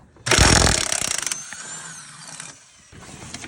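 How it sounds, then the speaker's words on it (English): Ratchet strap being tightened while dropping a transmission from an old junker vehicle, a quick series of loud clicking ratchet strokes followed by quieter mechanical handling. "we're just gonna use a simple ratchet strap"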